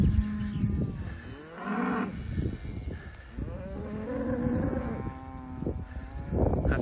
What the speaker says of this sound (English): Happy with the cows this year now.